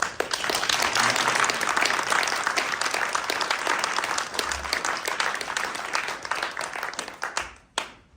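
A theatre audience at a cancer-stories stage reading applauds the actors in a full, sustained roar of clapping that stays loud for several seconds before cutting off sharply.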